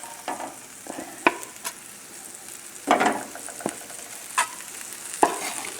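A salmon, spinach and cream mixture is stirred in a hot skillet, giving a soft sizzle with a few sharp spoon scrapes and clinks at irregular moments.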